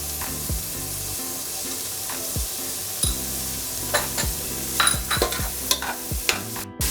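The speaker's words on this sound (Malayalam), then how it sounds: "സവോള അങ്ങനെ മൂക്കൊന്നും വേണ്ട, ഒന്ന് ചെറുതായിട്ടൊന്ന് വഴണ്ടാൽ മതി." Sliced onions with a spoonful of salt sizzle softly in a pan for vegetable pulao, with a spoon stirring and scraping in irregular clicks and scrapes over the steady frying hiss.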